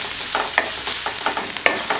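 Sliced onions sizzle and fry in a pan for mushroom cabbage manchurian. A steady hiss runs throughout, with occasional scrapes and clicks as they are stirred.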